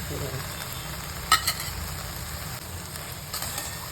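Onion greens are stirred with salt and coarse peanut powder in a hot pan, giving a steady close frying crackle with a few spoon knocks and scrapes against the pan, with no talking.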